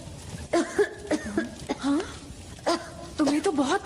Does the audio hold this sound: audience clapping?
no